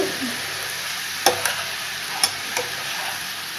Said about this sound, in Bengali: এখানে চিংড়ি মাছটা ভেজে নেওয়া হচ্ছে নুন হলুদ দিয়ে।